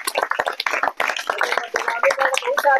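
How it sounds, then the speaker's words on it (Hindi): Students clapping in a Sanskrit grammar class, a run of sharp hand claps mixed with lively voices and chatter close by. "बहुत बढ़िया, ताली बजा दो।"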